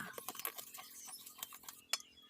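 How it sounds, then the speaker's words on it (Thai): Dry tapioca flour, salt and sugar mixed in a bowl: quick, light clinks and scrapes of a utensil against the bowl in an irregular patter, close and quiet. "ทำการคลุกเคล้าของแห้งให้เข้ากันดีค่ะ"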